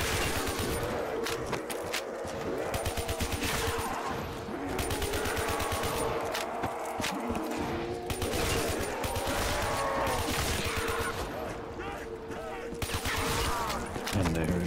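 Continuous rapid gunfire and explosions from a Black Ops III custom zombies map fill the whole stretch without pause, dense and loud, with game effects layered on top.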